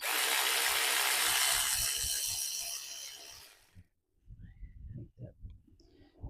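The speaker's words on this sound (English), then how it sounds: "here we go with my cordless ratchet" A cordless ratchet whirs loudly and continuously while removing the idler pulley on a Chevy Tracker, then cuts off, leaving faint clicks and handling noises.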